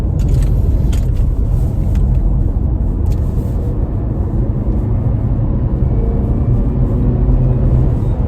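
A 2018 Porsche Macan with a dual-clutch gearbox accelerates in a steady, loud low engine drone that stays close and continuous from inside the cabin, with no talk over it.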